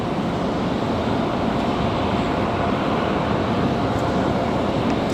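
A Copa Airlines airliner in Star Alliance livery taxis at Raleigh-Durham International Airport, heard as a steady, loud, broadband engine roar that holds even throughout, with no talk.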